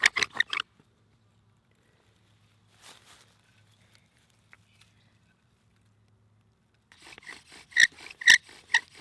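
A bow drill rubs against wood while starting a fire outdoors. A short burst of rasping strokes gives way to near silence, then a longer series of rhythmic scraping strokes returns, close and fairly quiet.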